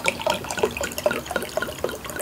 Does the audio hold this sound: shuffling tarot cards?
no